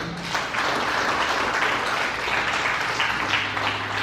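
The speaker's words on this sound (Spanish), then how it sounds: "Denle un aplauso al Señor" A church congregation claps together in a sustained, fairly loud burst of applause that holds steady without speech.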